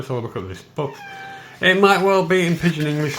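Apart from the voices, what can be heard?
cat meowing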